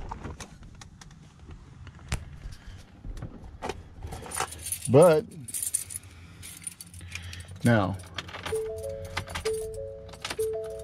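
Keys jangle in several short metallic bursts beside a 2018 Ford F-150 XL pickup truck, mixed with door handling sounds and a few electronic beeps, while people talk briefly nearby.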